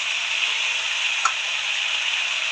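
Fried lentil dumplings (bori) dropped into a sizzling pan, giving a steady close hiss of frying with one faint tap partway through and no talking.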